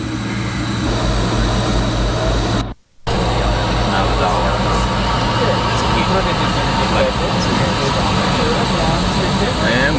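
Airplane jet engines roar steadily on the ground before liftoff, a dense, even rumble with a brief dropout near the start, heard from inside the cabin with faint voices beneath.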